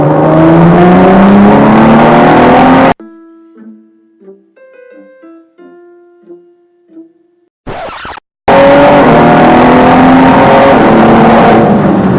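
A 2017 Ford GT sports car engine revs hard and roars as it accelerates, loud and close, with a brief quieter stretch of tonal sounds in the middle before the roar returns.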